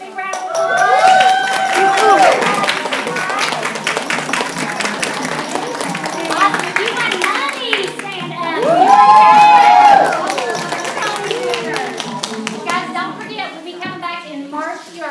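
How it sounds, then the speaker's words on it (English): Lively clapping and cheering from a crowd at a holiday hostess event, with shouts, children's voices and excited chatter mixed in, swelling loudly around the middle before continuing as busy crowd noise. "Let's give all of our winners a big round of applause."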